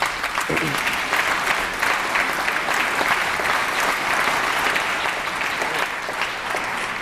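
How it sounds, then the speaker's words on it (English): Loud, continuous applause fills a legislative chamber during the California governor's State of the State address, a dense, even roar of many hands clapping with a faint murmur of voices beneath. "Anyway, applauding."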